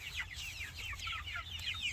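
Five-week-old Freedom Ranger meat chickens chirp and cluck continuously at close range, a soft, busy flock chatter with no one talking.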